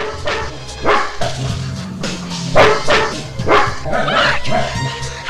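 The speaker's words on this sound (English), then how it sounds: "We get more spooks, like from this ghost dog" A ghost dog barks repeatedly in the 1988 horror film Ghosthouse, with loud, uneven barks and yips mixed with voices and a film soundtrack.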